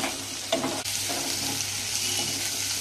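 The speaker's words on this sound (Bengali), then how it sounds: "দেখো হালকা করে ফ্রাই করে নিচ্ছি" Garlic cloves, cashews and a tomato sauté together in hot oil, giving off a dense, even sizzle broken by a couple of brief spatula scrapes.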